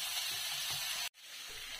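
Onions fry in a pan with mustard seeds and vadagam seasoning, giving a steady, close sizzling hiss that cuts out for a moment and then comes back slightly quieter.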